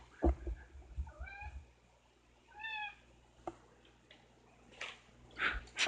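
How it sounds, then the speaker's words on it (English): Pet cat meowing indoors near a computer, two distinct rising-falling meows about a second apart, fairly close but soft, with scattered clicks and small knocks around them. "Sorry about my cat again."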